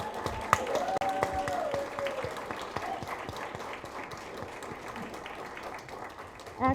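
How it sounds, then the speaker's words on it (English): A round of applause from the audience at a Pan African Women's Day event, moderate and continuous for several seconds, with faint voices mixed in. "Can we give that sister another round of applause?"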